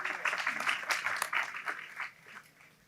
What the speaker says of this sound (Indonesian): tepuk tangan iki